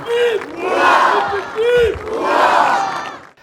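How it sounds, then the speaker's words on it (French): A crowd of Monaco residents cheers and shouts loudly for the princely family appearing at a palace window, with sustained, swelling waves of acclaim and vocal calls rising and falling. "La population monégasque a acclamé la famille souveraine."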